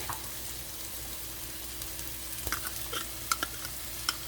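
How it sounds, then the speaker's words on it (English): Onions and garlic sauté in butter in a pan for stuffed bell peppers. A steady soft sizzle runs throughout, and a few sharper stirring clicks and pops come near the end. "I'm going to add the onions, 1 tablespoon of butter, and get these sauteed off."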